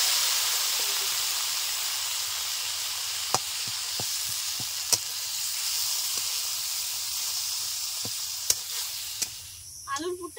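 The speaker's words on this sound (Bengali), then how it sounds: "এখন দিয়ে দিচ্ছি সেদ্ধ করে রাখা আলু।" Boiled potatoes fry in a pan with cumin, coriander, chili and turmeric, giving a steady close hiss of sizzling oil with a few sharp ticks of spoon or spatula.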